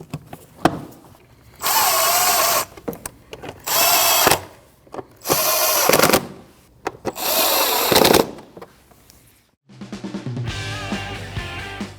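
A power tool drives the bolts of the air cleaner cover on a 2013-2019 Ford Escape 1.5L, whirring loudly in four bursts of about a second each with short clicks between, then a softer whine at the end.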